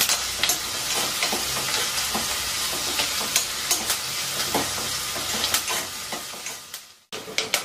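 Green chillies and curry leaves frying in oil for a chicken curry, a loud steady sizzle with frequent sharp crackles and pops, stirred throughout, briefly cutting out near the end before resuming.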